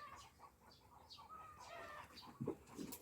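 Small birds, sparrows, around their nest beneath a jujube tree in a garden, giving brief chirps and a few rustling wing flutters at close range, faint and scattered over a quiet background.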